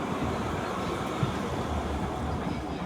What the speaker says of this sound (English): And another train.